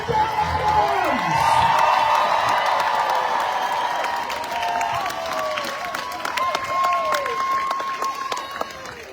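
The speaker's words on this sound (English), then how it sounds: "Now I want you to send out this man with a big round of applause" A protest crowd in Midland cheers and applauds for several seconds, with whoops and high shouts rising over dense clapping. The sound is loud and sustained, and voices call out within the noise.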